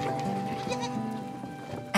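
Goats on mountain pasture near the Al-Ayn oasis bleat in a wavering, nasal cry amid a low outdoor murmur, with a sharper burst of noise at the very end.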